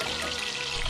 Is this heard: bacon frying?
yes